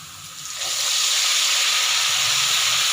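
Ginger-garlic paste hitting hot oil over browned onions in a pan for red bean pulao, a sudden loud continuous sizzle that swells within the first second and holds steady, close and alone.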